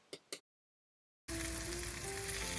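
Salmon sizzles and fries steadily in a pan with fresh dill, chili, onions and garlic, a loud continuous crackle that starts abruptly after a few brief knocks and a moment of silence.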